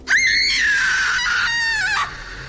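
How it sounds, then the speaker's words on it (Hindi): A woman lets out a long, loud, high-pitched scream of pain in a dramatized scene, sustained for about two seconds at close range before cutting off abruptly. "दर्द के मारे बंजारन चीख पड़ी"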